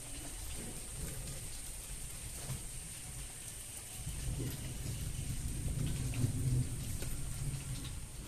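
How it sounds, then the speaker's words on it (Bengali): Steady rain patters in the background while a low, rolling rumble of thunder swells partway through and lingers. No one speaks. "বৃষ্টিতে এখন আমরা হেভি ছন্দল আছি, ঠান্ডা হয়ে গেছে, গরম নেই। অন্ধকার, মেঘ ডাকছে গুড়গুড় করে।"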